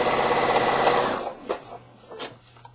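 A sewing machine stitches binding onto a wall hanging quilt, giving a fast, steady mechanical whir for just over a second before stopping. A few soft handling taps and thumps follow in the quiet.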